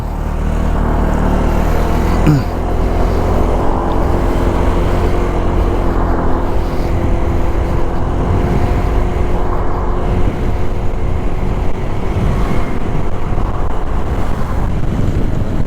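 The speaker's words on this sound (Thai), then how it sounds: "เดี๋ยวผมจะทดสอบนะครับเนี่ยอัตราเร่งในการออกตัวนะครับเนี่ย ของเจ้าคลิกร้อยหกสิบไอนะครับนะ" A Honda Click 160i scooter pulls away from a stop, its engine note rising in pitch as it accelerates, with strong wind rushing over the microphone throughout, loud and close.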